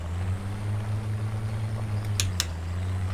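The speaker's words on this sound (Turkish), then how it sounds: "Aracın motor sesi çok güzel." Land Rover Defender engine in the Spintires off-road driving game, set up as a Camel Trophy vehicle, idling with a steady low hum throughout and two brief high clicks near the end; no one speaks.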